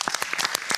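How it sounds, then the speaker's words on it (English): Applause from an audience, a short burst of many hands clapping at once, fairly loud and dense. "A big round of applause for all of you."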